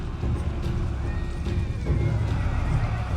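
Horses neighing and whinnying on a battlefield in the strategy game Total War: Three Kingdoms, a steady dense mix of animal calls and battle noise with no talk over it.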